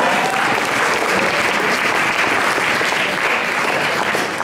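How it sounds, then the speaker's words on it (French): An audience at a slam poetry contest claps in a dense, even burst of applause that holds steady throughout. "On applaudit quand même."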